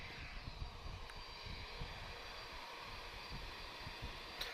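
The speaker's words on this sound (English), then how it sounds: "Oh, Cape Verde Airlines, 737-700." Cape Verde Airlines Boeing 737-700 jet at Lisbon Airport, a low, steady engine rumble heard from a distance, faint and continuous with no voices.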